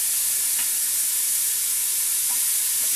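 Onions fry in a pan with a steady, bright sizzle and hiss, close and continuous, with a few faint stirring clinks.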